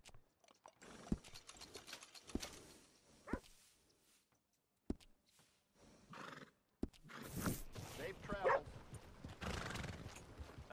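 Horse sounds from the video game Red Dead Redemption 2: a whinny and hoof clip-clops at a stable, with scattered mechanical clicks, moderately loud in bursts with quieter gaps.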